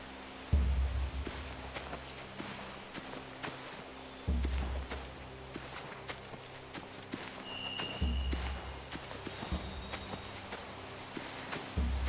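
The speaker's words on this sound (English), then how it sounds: "They have horses." Horse hooves clip-clop in The Walking Dead video game, heavy low thuds arriving in grouped bursts about every four seconds over a faint ambient background, with no voices.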